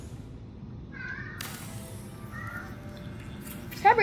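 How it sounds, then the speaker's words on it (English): A house cat meows a few times in short, faint calls in a quiet room, followed by a sharper cry near the end. "That was my cat."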